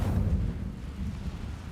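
The Incendio fire spell is cast in Hogwarts Legacy: a single low, booming burst of flame swells at the start, then fades into a softer rumbling tail.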